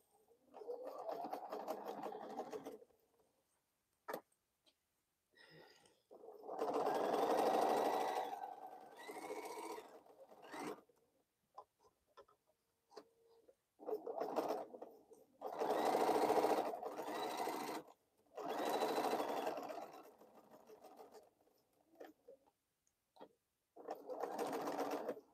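Sewing machine chain piecing bowl cozies, running in repeated bursts of a few seconds each with quiet gaps between, moderately close and steady while stitching.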